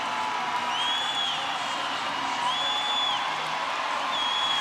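A crowd roars at an International Swimming League race in Budapest as a swimmer is urged home. The noise is a dense, continuous wash of cheering, with whistles and whoops rising above it.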